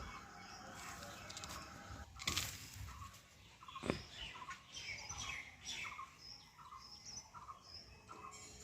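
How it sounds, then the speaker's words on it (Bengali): Several birds chirp and tweet repeatedly at moderate distance on a rooftop garden after a Kalbaishakhi storm, with scattered squawks and light patter in the background. "ছাদে কিন্তু প্রচুর পাখির ডাক শোনা যাচ্ছে"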